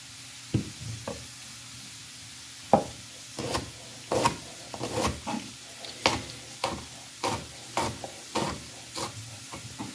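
A knife slices Brussels sprouts stem to top into thin slices on a board, giving a dozen or so quiet, evenly spaced cutting knocks with brief pauses between.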